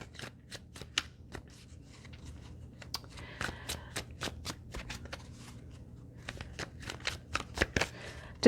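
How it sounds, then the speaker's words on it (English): Tarot cards being shuffled by hand in repeated quick riffles and taps, close and crisp, with irregular bursts of flicking across the whole stretch and no talking. "Let's see what tarot cards want to come out."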